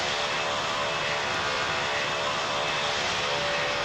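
Fixed-wing airplane taking off at Greater Rockford airport, a loud, steady engine roar that fills the whole stretch without letting up, heard from the ground nearby with no voices over it.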